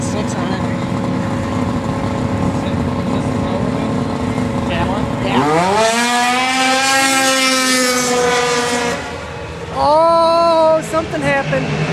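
A snowmobile with a stock motor and open pipes at a solo race roars loudly, its engine pitch climbing sharply as it revs and passes, with people talking over a constant background rumble.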